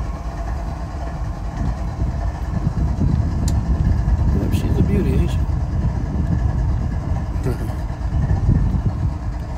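Several diesel locomotive units idle together at a rail line, giving a steady, loud low rumble that runs throughout with no break.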